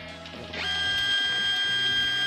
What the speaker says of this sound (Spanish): ese es el sonido de una impresora que está escaneando